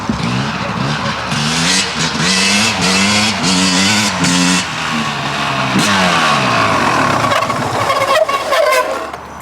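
A Suzuki RM250 two-stroke motorcycle with an alloy frame sounds loud and close as its engine revs rise and fall under braking, with a tire scrubbing against the ground.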